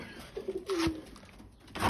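A stray ringed homing pigeon gives a soft, low, brief coo, close by against faint background noise.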